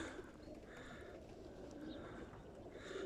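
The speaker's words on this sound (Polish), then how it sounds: "Tu pokażę wypuszczenie gołębi." Racing pigeons coo softly and repeatedly at moderate distance over a rustling outdoor background as they are released in the early morning.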